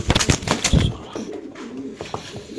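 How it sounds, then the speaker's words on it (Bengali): A white racing pigeon gives a close, loud series of soft throaty coos, rapid pulses at first, then a lower drawn-out rolling coo with a few short notes after. "এটা একটা হোয়াইট রেসের কবুতর একটা ভালো লাইনের কবুতর"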